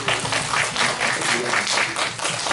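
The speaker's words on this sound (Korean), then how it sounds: "박수로 환영해 주세요." Dense, steady applause from a seminar audience welcoming a speaker, with many hands clapping together throughout.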